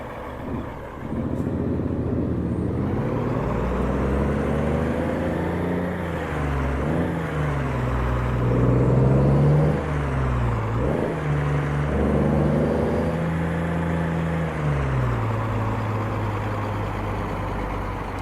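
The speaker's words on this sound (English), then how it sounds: "It's got a very nice clean engine sound on it." A custom Mack truck engine in a driving video game idles and revs smoothly, its pitch rising and falling in slow swells across a long stretch with no talking.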